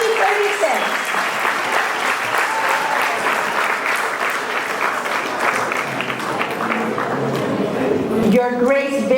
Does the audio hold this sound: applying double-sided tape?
no